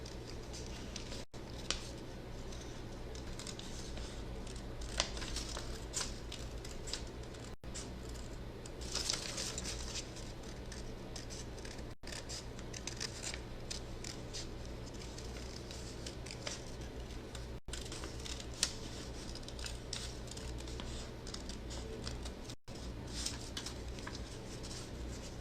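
Scissors cut around a hand shape traced on paper, making soft, intermittent snips and crinkles at close range, faint and spread out with brief pauses between cuts, with no talking.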